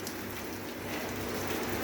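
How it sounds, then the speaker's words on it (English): Heavy rain drums steadily on an expandable container home, a dense continuous hiss of drops hitting the roof and surfaces close by, with no voices. "Lots of rain, it's wonderful."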